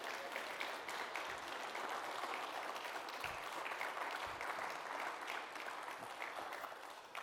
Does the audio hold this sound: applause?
yes